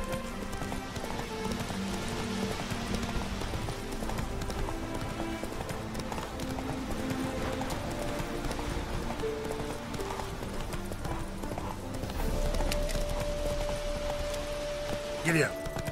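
Horse hooves galloping in The Witcher 3 video game, a continuous rapid drumming of hoofbeats over ground, mixed with ambient game sound and a brief sharp effect near the end.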